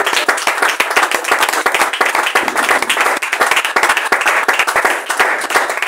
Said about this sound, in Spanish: Ofrenda de palmas a Cristo